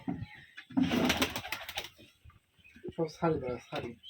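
Pigeons coo at a Rajshahi giribaz pigeon farm, a burst of throaty calls near the start, followed by someone speaking over quieter bird sounds.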